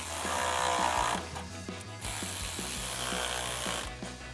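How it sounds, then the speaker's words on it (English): A hand ratchet with a 10mm socket tightens intercooler piping clamps on a 2.7L EcoBoost F-150, giving off a steady series of close, crisp clicks at an even pace, alone without talk. "we're just gonna tighten these two down. Same thing, ratchet, 10mm socket."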